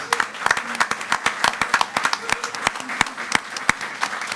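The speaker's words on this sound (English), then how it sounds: "Give her a round of applause" A school board meeting audience applauds with steady, scattered hand claps, loud and close, with some voices murmuring underneath throughout.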